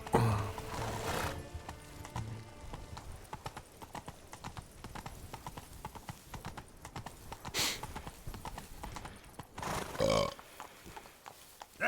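Roach, a horse in The Witcher 3, trots with steady rhythmic hoof clip-clops close by, moderately loud, with a few snorts and brief bursts of louder noise mixed in.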